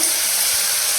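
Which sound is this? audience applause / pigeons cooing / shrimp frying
shrimp frying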